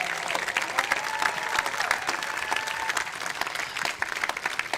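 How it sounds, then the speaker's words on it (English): An audience claps in steady applause for city staff at a State of the City address in Canyon Lake, a dense, even patter of many hands lasting throughout with faint crowd noise. "Can we give them a round of applause"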